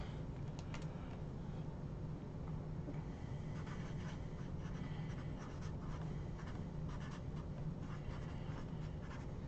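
A pen writes a name on a cardboard card box, steady close scratching strokes continuing throughout at a quiet level with no talking.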